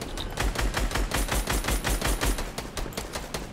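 Rapid automatic gunfire in Fortnite Battle Royale, with loud, dense bursts of shots in quick rhythmic succession that thin out toward the end, with no voices.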